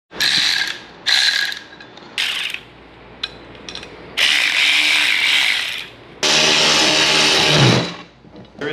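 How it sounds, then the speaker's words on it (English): A ratchet working a 13mm bolt on a Jeep Rubicon, loud close bursts of rapid clicking separated by short pauses, two longer runs near the end, with no talk. "There is one 13mm bolt that we have to remove."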